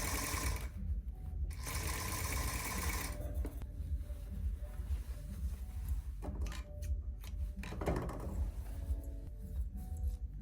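A sewing machine runs in steady bursts as it stitches inside a back welt pocket on a tailored garment. The whirring is close and continuous, with brief pauses and small mechanical clicks and no talking.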